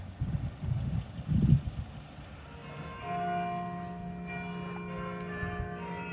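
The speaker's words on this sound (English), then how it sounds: "The bells." Church bells ring out in the town of Ledbury, sustained tolling tones that swell in partway through after a gust of wind noise, heard from a moderate distance outdoors.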